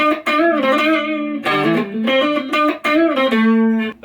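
Silvertone 26931 electric guitar played on its rhythm pickup alone, with the original pots: clear sustained chords and notes in several phrases with short gaps, close and loud, no talk.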